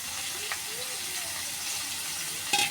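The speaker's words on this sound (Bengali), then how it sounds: "পেঁয়াজটা একটু ভেজে নেব।" Onion sizzling in a pan as it fries, a steady broadband hiss that runs the whole time with a brief clink near the end.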